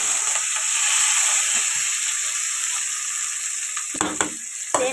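Green chillies, beans, onion, tomato and potato fry for semiya upma, giving a steady close sizzle with stirring, broken near the end by a few scraping knocks of a spoon against the pan.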